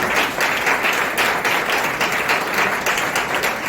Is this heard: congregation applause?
yes